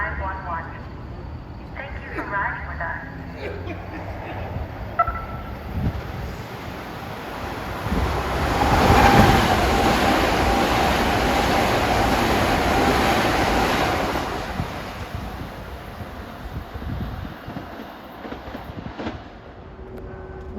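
A New Haven Line limited express, train 3542, rushes through Mamaroneck station, a broad roar swelling to a peak midway and fading, with wind buffeting the microphone throughout.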